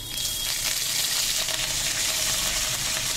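Mustard seeds, pepper, curry leaves, ivy gourd, drumstick and okra sauté in hot oil for a Tamil fish curry, giving a steady, bright sizzle that holds close and continuous throughout, with no voices.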